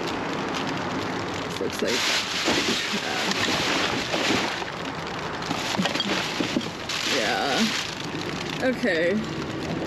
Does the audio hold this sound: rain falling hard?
yes